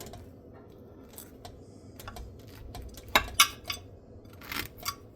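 Crispy maple ham and white cheddar butter swim biscuits being cut with a spatula give faint, scattered crunching and scraping clicks, growing a little louder toward the end, close by with no talking.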